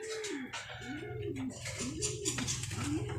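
Racing pigeons coo close by, three or four rolling, repeated coos in a steady rhythm over a faint background hum.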